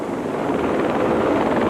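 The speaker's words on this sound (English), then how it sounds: "A giant helicopter hovered over the main embassy building" A large helicopter hovers over an embassy building, its rotor and engine roar forming a steady, loud, wind-like wash that fills the moment without any voices.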